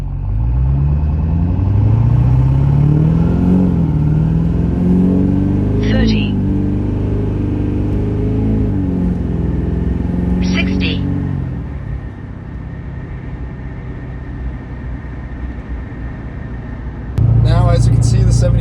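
A tuned truck accelerates hard on a slippery road run, engine droning and rising in pitch as it climbs through the gears, loud and close with a steady rumble, then dropping back to idle.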